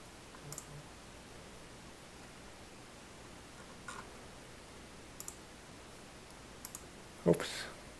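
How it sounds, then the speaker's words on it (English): A computer mouse clicks in a quiet room during work in a CRM program, a few sharp isolated clicks spread out, including a close double click and a louder final clunk, over faint background hiss. "Oops, clicking a little too fast."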